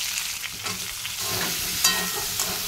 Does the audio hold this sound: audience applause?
no